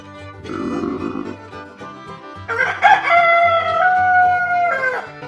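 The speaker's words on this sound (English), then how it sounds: "A rooster. It's a rooster." A farm rooster gives a loud, drawn-out crow in the second half, preceded by a short clucking squawk, with music playing softly underneath.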